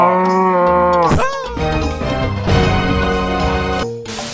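A Minecraft cow moos loudly and up close, one long drawn-out low call followed by a second stretched moo, with no speech.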